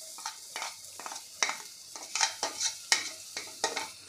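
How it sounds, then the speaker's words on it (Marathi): Methi vadi spice paste frying in hot oil in a pan, with soft sizzling under repeated scraping strokes of a spoon, steady and rhythmic at close range. "आता तेल चांगलं गरम झालं की आपण जे वाटण तयार केलेलं आहे ते वाटण आपल्याला यामध्ये घालून घ्यायचं आहे।"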